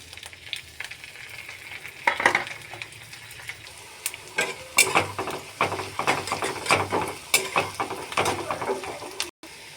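Onion and green chillies frying in mustard oil in a kadai, a steady sizzle with clattering stirring strokes that grow busier and louder partway through, no voices.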